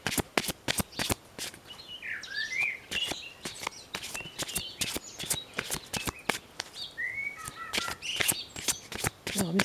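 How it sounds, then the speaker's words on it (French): Outdoor birdsong with bright chirps and whistled phrases, partly masked by dense rapid card shuffling close by, with a voice speaking softly at times. "Vous entendez les oiseaux, c'est magnifique le chant."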